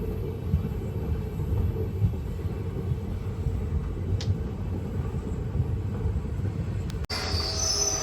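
The SMVT Bengaluru–Murdeshwar Express rolls through KR Nagar railway station, which is under construction, with a loud, steady rumble of wheels and wagons close by and a brief squeal near the end.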